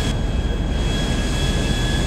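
Helicopter in GTA V, a loud, dense, steady engine and rotor roar that fills the whole clip without a break and masks everything else, with no talking.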